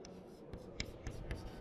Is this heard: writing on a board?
yes